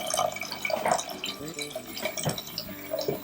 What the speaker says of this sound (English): get your water ready, and you pour it in until it's about an inch over top of your farro